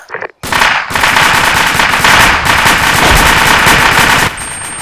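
Sustained machine gun fire from a squad in a military video game battle, a long loud continuous burst of rapid shots after a brief pause, cutting off near the end.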